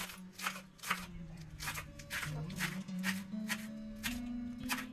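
Knife chopping washed spinach leaves into small pieces, a steady series of crisp, close cutting strokes over a faint tonal background.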